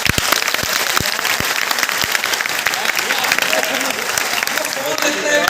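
An audience at a university lecture applauds, a dense continuous patter of many hands clapping at an even level with a few sharper claps standing out, and faint voices mixed in.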